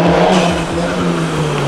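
A Subaru pulling in with its engine revving, a loud close rumble that swells and settles over under two seconds, no talking.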